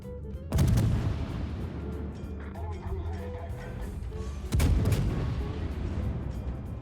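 Heavy cruiser guns boom in a naval battle video game, with two big salvos a few seconds apart and rumbling low echoes between them, heard beneath a voice.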